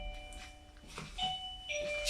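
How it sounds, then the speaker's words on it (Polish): A wireless doorbell rings twice, its faint electronic chime tones sounding in a quiet room. "tak, to był dzwonek"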